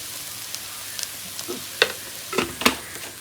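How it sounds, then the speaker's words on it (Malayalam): Beef curry being stirred in a pan after chilli powder is added, giving soft scattered scrapes and light sizzling clicks that grow a little denser toward the end, close and fairly quiet with no talking. "എല്ലാം കൂടി ഇട്ടൊന്ന് ഇളക്കി കൊടുക്കുന്നുണ്ട്. മുളക് പൊടിയും കൂടി ഇടുന്നുണ്ട് കേട്ടോ."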